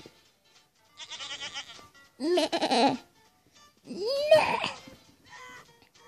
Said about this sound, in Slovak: Pozor, deti, koza letí.